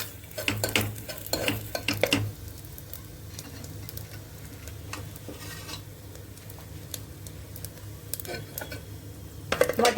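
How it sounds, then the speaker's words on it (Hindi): Mutton pieces fry in a pot after cumin and asafoetida for Kashmiri mutton kalia: a steady low sizzle runs throughout, with clattering stirs and utensil scrapes near the start and end. "मटन पीसेस को तकरीबन 5 से 6 मिनट भूनना है"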